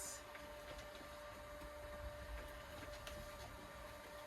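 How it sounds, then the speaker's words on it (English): A printer turning out shipping labels hums and whirs faintly with a steady mechanical drone and soft feed ticks in a quiet work space. "Why is it printing so much?"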